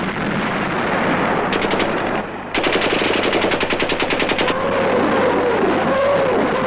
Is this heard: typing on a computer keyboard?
no